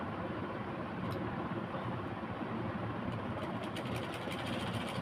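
A sewing machine stitches fabric in a continuous dense motor hum and rapid needle rattle, running without pause at moderate, close volume.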